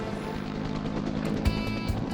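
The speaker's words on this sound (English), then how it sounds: "Usually on tap for fighting forest fires, there's at least 500 gallons swinging under that chopper" A helicopter carrying a firefighting water bucket of at least 500 gallons for forest fires, its rotor and engine making a steady, moderately loud hum throughout, with a couple of brief thumps near the end.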